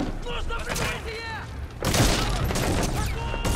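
Gunfire in the video game Metal Gear Solid V, a loud burst of rapid shots and impacts that erupts near the middle and keeps rattling, preceded by game effects and a talking voice.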